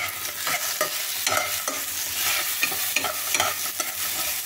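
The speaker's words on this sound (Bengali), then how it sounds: "এখানে কতগুলো গোটা কাজু দিয়ে দিলাম, এই কাজুগুলো একটু এই তেলের সাথে ভেজে নেবো।" Whole cashews frying in oil in a pan for a Bengali dalia dish, a close sizzle broken by rhythmic stirring scrapes of a spatula, repeated every half second or so with no voices.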